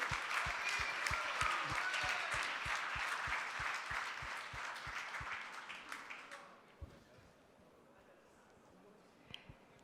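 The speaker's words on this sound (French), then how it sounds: "Allez, on applaudit Boris." Applause from the audience at a dental diploma ceremony, with a steady rhythmic beat pulsing beneath the clapping, rises loudly and then fades out after about six seconds, leaving a quiet room with a few faint knocks.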